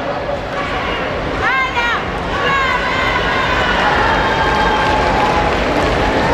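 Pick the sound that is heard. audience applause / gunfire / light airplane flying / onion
audience applause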